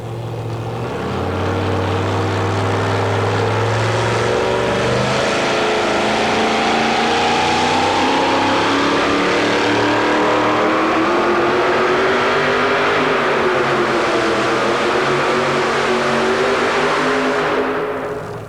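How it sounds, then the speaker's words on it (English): A powerful engine in a two-wheel-drive pulling truck at a 1990 truck pull roars up from idle into a long, loud, sustained run, its pitch climbing and holding before easing off at the end. "That looked like a funny car headed down the drag strip there"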